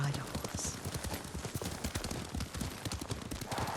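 A horse ridden at a steady pace in the samurai game Ghost of Tsushima, its hooves beating a continuous, even clip-clop close by over a bed of game ambience.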